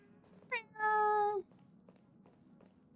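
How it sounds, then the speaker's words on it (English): A cat meows in the video game Honkai Star Rail: one short chirp followed by a longer, clear, close meow, over a quiet background with faint soft taps. "Feed the cat."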